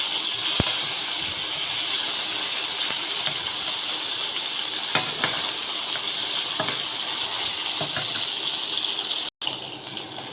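Fish frying in hot oil in a wok after being turned over, a continuous close sizzle with scattered crackles and a brief dropout near the end.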